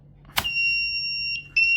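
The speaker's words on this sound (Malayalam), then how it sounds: "ട്രിപ്പായി അലാം ട്രിഗർ ആവും." A pump controller's alarm beeps out in a steady high electronic tone after a sharp click when the pump trips on lost water flow in a one-pump, four-consumer automatic setup, pausing briefly and then sounding again, close and loud.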